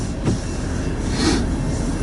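A southbound Norfolk Southern crude oil freight train rumbles past during a winter snowstorm, a steady loud roar of rolling cars with a brief metallic squeal of wheels partway through.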